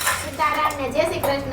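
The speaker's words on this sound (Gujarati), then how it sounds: "બેન જો અહીંયા ઠામ વાસણ માંજે છે." Pots and dishes being scrubbed by hand, giving steady scraping and clattering of utensils while people talk nearby.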